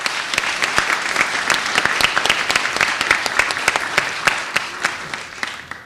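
Steady applause from a crowd at a town hall meeting in a borough hall, many hands clapping in a close, continuous rattle that tapers off near the end.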